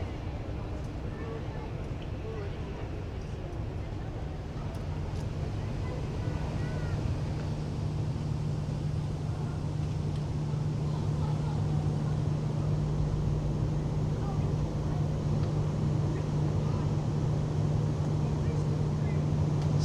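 The P&O Azura cruise ship sails away from La Palma, heard from the back deck as a steady low engine hum with wind rushing across the microphone, a continuous broad rumble holding level throughout.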